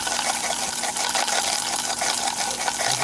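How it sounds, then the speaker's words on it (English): Water gushes continuously out of a pool sand filter during backwash, a loud, dense, unbroken rushing splash with no pauses. "we're going to let some of that excess water run out of here real quick"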